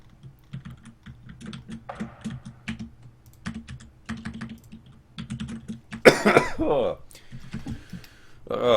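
Soft keyboard typing runs throughout, then a burst of harsh coughing breaks in near the end, close to the microphone.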